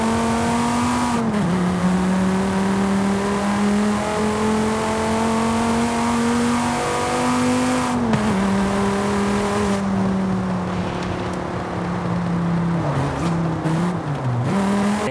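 Dodge Viper ACR with an 8-litre V10 in Forza Horizon 5, revving loud and steady throughout, pitch shifting as it changes gear around the middle and dipping again near the end, with no talk.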